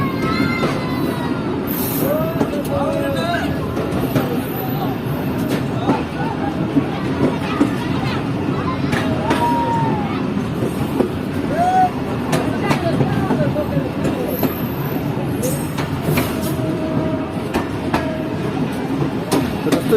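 A train rolls along a railway track through the Sindh countryside, a continuous loud rumble with rhythmic clatter and occasional squeals and whistles, voices faintly mixed into the steady din.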